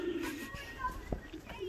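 Pigeons coo softly inside a breeder's loft for old bird racing, with low repeated coos and a few faint calls nearby under a quiet background.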